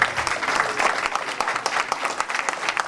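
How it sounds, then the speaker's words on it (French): Church congregation applauding at a Christian assembly anniversary celebration, a full, steady burst of many hands clapping close by for a few seconds, with no talk over it. "L'église se fait pour nous applaudir, pour nous remercier."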